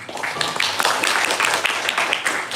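Audience applause at a small coffee-shop presentation, a steady wash of clapping from a modest crowd at moderate loudness, with no voices standing out.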